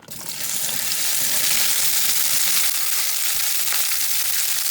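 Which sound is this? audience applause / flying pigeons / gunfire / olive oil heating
olive oil heating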